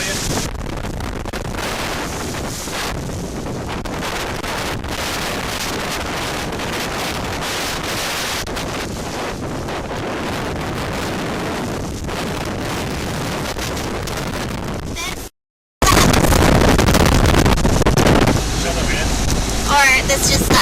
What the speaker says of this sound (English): we got blasted by a big squall. It's like 38 knots of wind